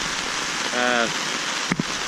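Steady rain hisses on a surface at a campsite throughout, with a brief tonal hum in the middle and a couple of soft knocks near the end.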